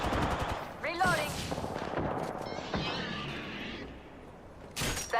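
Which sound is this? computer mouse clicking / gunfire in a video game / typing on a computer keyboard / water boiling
gunfire in a video game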